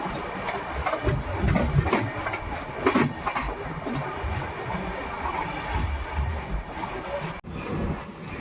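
An Indian passenger train runs along the railway toward Kishanganj, giving a steady, rumbling roll with rattling carriage noise and occasional knocks throughout.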